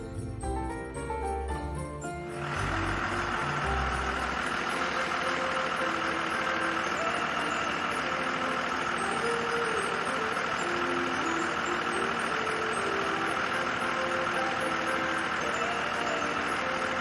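A cartoon vehicle's engine runs in a children's maze puzzle. After a brief musical opening, a steady, continuous motor drone holds at an even loudness to the end.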